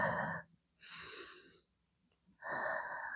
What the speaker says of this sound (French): Respiration Pilates, respiration costale.